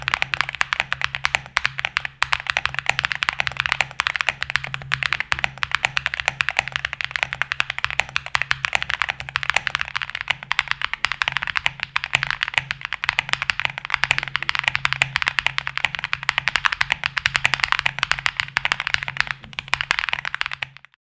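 Rapid, continuous clacking of keys on a QK75 mechanical keyboard, close and steady for a long stretch with no talking.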